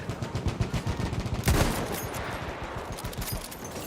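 Rapid submachine gun fire from an MP 18 in the video game Battlefield 1, a dense close-range rattle of repeated shots with a sharper burst partway through, continuing steadily to the end.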